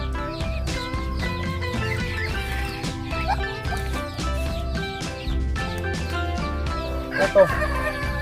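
Domestic chickens cluck repeatedly at a backyard poultry pen, with layered clucks and calls, a rooster crowing and a brief horse-like whinny, near and steady throughout.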